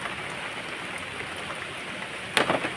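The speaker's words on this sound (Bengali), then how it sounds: "নাক চম্পা গাছে বৃষ্টির জল পড়ছে ওটা ভালোই লাগছে দেখতে" Rain falls on a nak champa tree outdoors, a steady soft hiss of drops on leaves that holds evenly, with a brief cluster of louder patter near the end.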